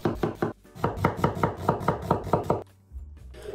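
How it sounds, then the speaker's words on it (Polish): A knife chopping a medium onion into fine dice on a board, a quick steady run of about a dozen close, crisp taps with a short pause partway through. "Jedną średnią cebulę kroję w drobną kostkę."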